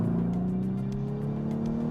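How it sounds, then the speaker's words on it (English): Cabin of a performance hatchback with a DSG gearbox downshifting in third gear, heard from inside as a steady loud engine drone with a slowly rising tone and faint rhythmic ticks above it. "now we can try how it sounds here from the inside when I shift downwards"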